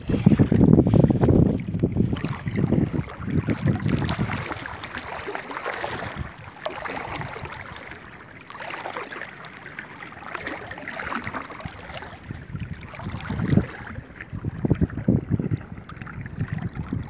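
A boat crosses a river in Kuala Meureubo, with steady low engine and water rumble plus wind buffeting the microphone, sometimes louder, continuing throughout without talk.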